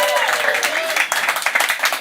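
Crowd at a live soccer preview show in Dallas cheering and clapping, a dense continuous wash of applause with a voice speaking over it.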